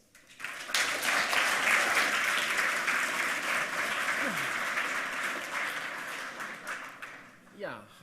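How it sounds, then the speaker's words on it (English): A conference audience breaks into sustained clapping for the speakers, swelling quickly and holding for several seconds before tapering off, with a voice speaking faintly beneath. "So give them a warm applause."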